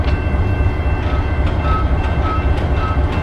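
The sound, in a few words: locomotive moving railroad car along the track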